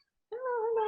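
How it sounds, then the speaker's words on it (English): A pet cat gives a single drawn-out meow that starts abruptly after a brief silence and holds steady, close and clear, in a quiet indoor room. "I have my cat here."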